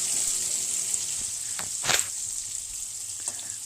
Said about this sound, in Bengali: আলুগুলোকে আমি লাল লাল করে ভেজে নিচ্ছি।